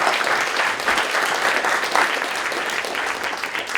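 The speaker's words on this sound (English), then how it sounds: "Let's give them a round of applause." Audience applause in a community hall during an environmental all-candidates forum on the Sunshine Coast, BC: dense, continuous clapping from a modest crowd, steady and fairly loud throughout with no talk over it.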